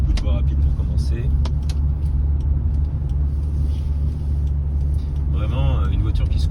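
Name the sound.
Toyota Supra 3.0 turbo MK3 car driving on expressway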